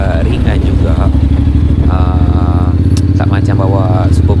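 A 2023 Honda X-ADV motorcycle being ridden on the road, its engine giving a loud, steady drone with rushing wind noise, close and continuous, and someone talking over it.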